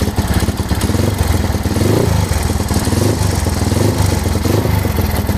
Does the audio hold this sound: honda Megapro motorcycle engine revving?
yes